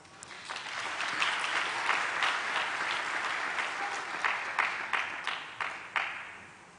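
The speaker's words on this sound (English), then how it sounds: "you deserve a round of applause" A crowd claps steadily at a university graduation ceremony, swelling and then thinning into scattered final claps.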